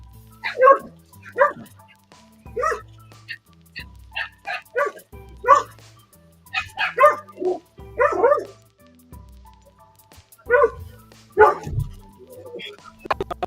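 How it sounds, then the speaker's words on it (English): A dog barks in short, repeated bursts of yips and woofs at close range, some with a whimpering edge. The barks come in irregular clusters over more than ten seconds, loud and alone in an otherwise quiet indoor room. "Dog."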